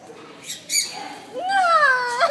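A pet bird lets out a couple of quick chirps, then a longer rising-and-falling squawking call, close and loud, with a faint voice in the background.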